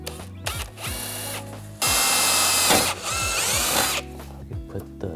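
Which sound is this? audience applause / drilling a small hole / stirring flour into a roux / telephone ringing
drilling a small hole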